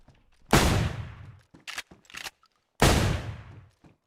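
Gunfire in the video game DayZ, two loud, sharp gunshots with rumbling tails about two seconds apart, separated by a few quick mechanical clicks and clacks, heard close with no talking.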